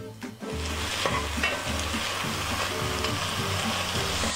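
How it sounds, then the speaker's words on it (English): Diced bacon fries in a pan over medium heat, giving a dense, continuous close sizzle with a steady crackle and light stirring scrapes; no voices. "we're just going to cook this bacon over this medium heat just for a few more minutes"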